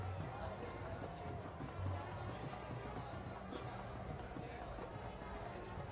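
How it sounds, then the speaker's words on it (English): Cricket crowd of Royal College supporters cheering and chattering at a Royal Thomian limited-over match, a steady distant roar of many voices throughout. "The Royal College crowd is going wild."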